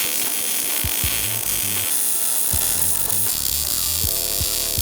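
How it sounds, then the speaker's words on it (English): MIG welding on a steel rear bumper for a 4th gen Toyota 4Runner, a steady close crackling buzz running the whole time with a broadband hiss and no talk. "I'm gonna go ahead and finish these welds here"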